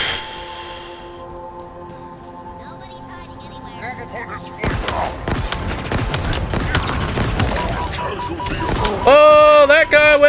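A grenade blast in the video game Halo Infinite on hard mode, a sudden loud burst midway through after sustained game music and tones, followed by scattered gunfire and effects.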